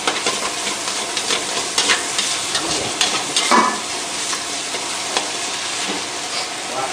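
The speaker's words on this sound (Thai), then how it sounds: "เดี๋ยวเราก็ผัดให้มันแห้งนะครับ" Pad thai noodles stir-fried in a pan give a steady, loud sizzle with scraping stirring strokes throughout, no voices over it.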